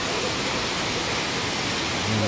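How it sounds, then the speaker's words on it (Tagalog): A waterfall at Puerto Galera roars as a steady, dense wash of rushing water, loud and close, with no gaps. "Isa sa pinakamagandang pasyalan dito. Itong falls na to."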